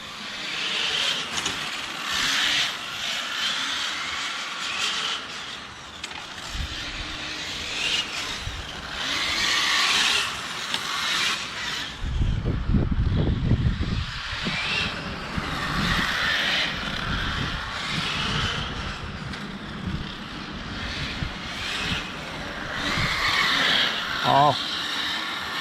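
A Serpent Viper 989E RC car with a HobbyWing Max8 G2 ESC whines as it drives, its electric motor rising and fading as it passes, with people talking intermittently.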